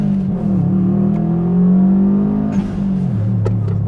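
A four-wheel-drive car, either a Subaru Impreza WRX or a Lancia Delta Integrale, accelerates hard in first gear, a loud sustained engine drone rising in pitch before dropping at a shift.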